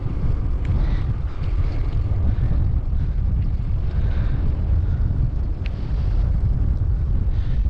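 Steady, loud wind buffeting the microphone while pedaling an Electra Bicycle Co. Cruiser 1 into a headwind, a continuous low roar that fills the whole stretch with no speech.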